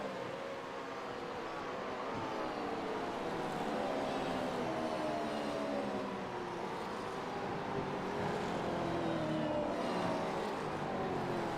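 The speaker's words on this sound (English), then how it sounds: "Drivers scramble out onto the track." Race cars roll out onto a simulated Mid-Ohio track in the iRacing game, a faint layered drone of several engines humming and rising together at a distance, without talk.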